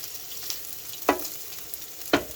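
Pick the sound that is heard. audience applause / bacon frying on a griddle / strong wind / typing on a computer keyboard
bacon frying on a griddle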